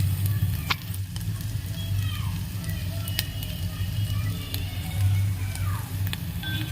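Frying in a pan with a pinch of salt and turmeric added, a soft continuous sizzle with a low steady hum underneath and a few light clicks, fairly quiet and close.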